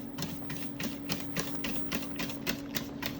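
Whisk scraping pastry cream in a pot, made of rapid rhythmic clicks and scrapes about four per second against a steady hum, close and moderately loud.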